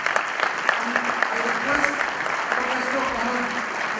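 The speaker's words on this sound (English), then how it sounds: "May I now request everyone present here to give a big round of applause" An audience at a gathering on leadership lessons from the armed forces gives a big round of applause, a dense continuous clatter of clapping with a few louder claps, while someone speaks briefly over it.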